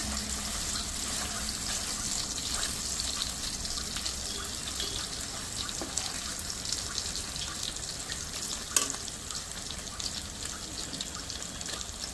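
Paneer fried rice frying in an iron kadai, a steady hissing sizzle throughout with faint stirring clinks, close and continuous.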